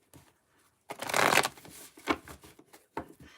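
A deck of playing cards is shuffled close up, with a long riffling burst followed by a few shorter flicks and taps, heard alone in a quiet room.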